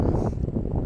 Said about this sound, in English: Oh, it's super windy.